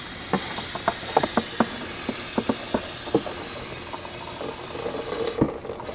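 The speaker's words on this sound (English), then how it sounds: "Use copious amounts of brake dust cleaner." Brake cleaner aerosol hisses in a steady, broad rush, punctuated by sharp clicks and taps, before cutting off near the end. Close by, no talking.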